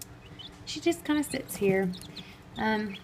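Several young chicks chirp in short high peeps behind a nearby person talking, the calls scattered and fairly soft.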